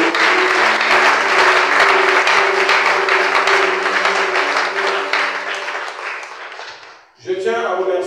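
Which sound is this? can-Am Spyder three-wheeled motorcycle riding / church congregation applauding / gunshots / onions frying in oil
church congregation applauding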